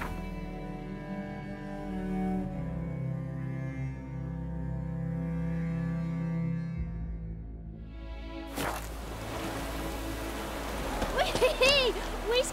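Rain in the video game The Witcher 3 sets in as a steady, dense hiss after an opening stretch of musical tones, with game voices and other sounds layered over it.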